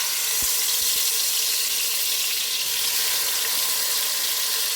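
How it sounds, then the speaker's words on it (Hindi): Marinated vegetables for veg biryani sizzle in hot oil, a loud, steady, hissing fry that holds without pause, with a couple of faint knocks near the start. "तो अब इसमें डालते हैं सब्जियाँ जो हमने मैरिनेट किया था ना"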